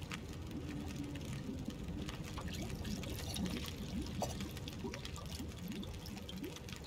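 Water being made in The Long Dark, a steady soft pouring and trickling wash that runs evenly throughout at low level, with faint clicks and no speech.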